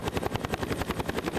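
A helicopter flies over the Faroe Islands, its rotor beating in a fast, even chop under a broad engine roar, fairly close and steady with no voices.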